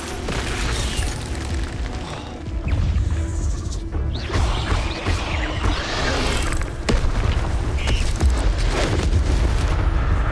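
Fire spell cast in Hogwarts Legacy, a loud booming, crashing blast with whooshes that runs the whole way through at steady volume, with no voices.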